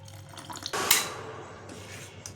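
Water is poured over semolina batter in a bowl for rava dhokla, with a clatter of a utensil and a short splashing pour followed by quieter liquid trickling.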